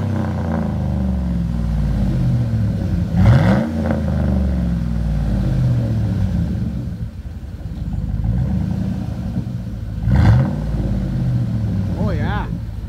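A 2011 Chevrolet Silverado with a 5.3 engine and a full straight-pipe exhaust idles with a deep, loud rumble close by, broken by two sharp throttle blips that flare up and fall back.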